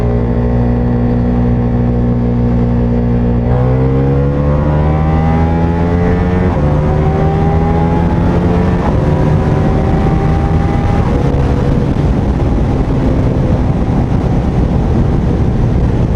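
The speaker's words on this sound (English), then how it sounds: "We will give it some nice pull on the second gear." A V4 muscle cruiser motorcycle accelerates hard in second gear on the autobahn, its engine note climbing steadily and loudly through the revs under constant wind roar, with no speech.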